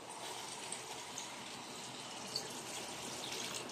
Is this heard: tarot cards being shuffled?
no